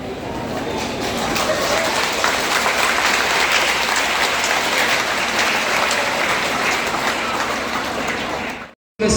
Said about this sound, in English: The students to stand up and give a big round of applause.